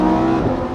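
A 2020 Lamborghini Huracan Evo engine revs briefly at close range, a loud, steady throaty drone with a slight rise and fall and no voices.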